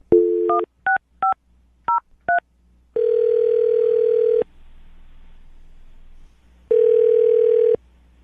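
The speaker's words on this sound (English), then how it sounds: "I'm going to dial the phone number right now." Touch-tone dialing on a telephone, a quick series of crisp beeps in uneven rhythm, followed by long steady ringback tones separated by a pause, clear and close with no talk.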